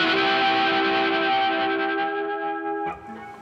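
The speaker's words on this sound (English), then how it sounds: "It's almost like a square wave or something. I think that detune's been really blown out because of the overdrive." Electric guitar run through a Boss MO-2 Multi Overtone pedal with overdrive gives a buzzy, square-wave-like sustained tone with reverb, holding steady and then cutting off with a short pick attack near the end, loud and alone.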